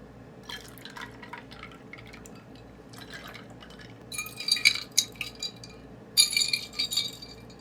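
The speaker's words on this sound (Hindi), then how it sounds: "अब इसके अंदर पानी डालेंगे।" Liquid trickles and splashes into a glass in two short bursts, with faint clinks and drips, fairly close and quiet in between.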